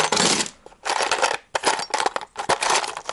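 Coins rattle and clink as they are dropped and shuffled in a garage, several bursts of bright metallic jingling with brief pauses between, close and fairly loud with no speech.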